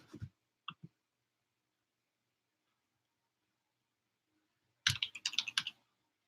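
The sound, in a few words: typing on a computer keyboard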